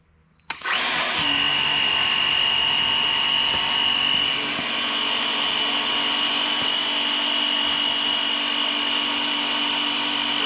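A DeWalt 20V battery-powered pressure washer starts abruptly and sprays on its high setting, a loud, close, steady motor whine with hissing water that holds constant for about ten seconds, no talking.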